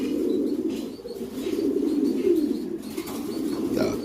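Lahore pigeons, a group of females, coo in a steady low murmur close by, with occasional brief wing flutters over it.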